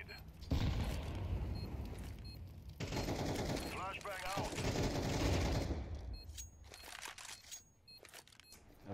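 Rapid gunfire bursts from a Counter-Strike match, including Desert Eagle shots, come in loud, dense volleys over a steady background, with talk heard in between.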